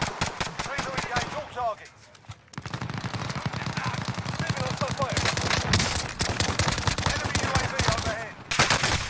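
Rapid bursts of automatic gunfire from a multiplayer shooter video game crackle almost continuously, with brief lulls, mixed under in-game callouts and players talking over each other.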